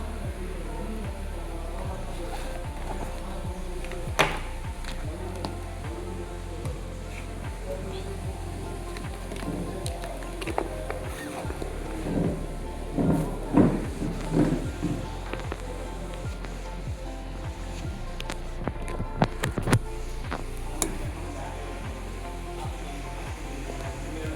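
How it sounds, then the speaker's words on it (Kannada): Steady light rain falling outdoors before dawn, a soft continuous patter with scattered drops, under low background rumble and some faint movement sounds. "ಮಳೆ ಏನೂ ನಿಲ್ತಾ ಇಲ್ಲ ಫ್ರೆಂಡ್ಸ್. ಸ್ವಲ್ಪ ಸಣ್ಣಗೆ ಬರ್ತಾ ಇದೆ."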